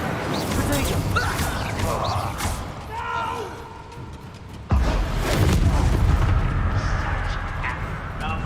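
The Incendio fire spell is cast in Hogwarts Legacy, giving a heavy booming burst partway through amid busy game effects and a continuous rumbling background.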